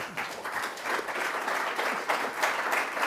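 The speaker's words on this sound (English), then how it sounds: "All right, let's give them a huge round of applause." A debate audience gives a round of applause, a thick, continuous wash of many hands clapping with slight swells in loudness.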